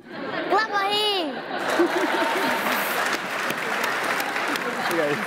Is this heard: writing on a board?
no